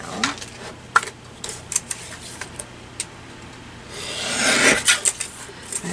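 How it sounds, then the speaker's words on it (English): A small paper trimmer working on a printed photo: scattered sharp clicks and taps as it is set up, then a brief scraping, rasping slide of the blade cutting through the print. "let me get my little trimmer so I can trim this down"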